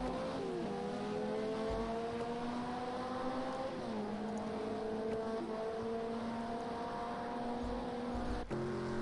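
A Nissan LMP2 race car at the Nürburgring holds full throttle, its engine a loud, steady high-pitched drone with tones that step down at gear changes, while a commentator talks over it.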